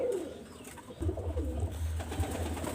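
Low, steady pigeon coos murmur close by, a soft repeating purr that swells in the second half with faint background noise.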